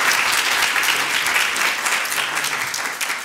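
Audience at a city-studies panel event claps in a dense, steady round of applause that fades slightly toward the end, with no one speaking over it.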